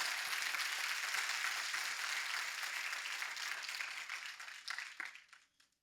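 A church congregation claps steadily in a dense wash of applause that gradually thins and fades out over several seconds.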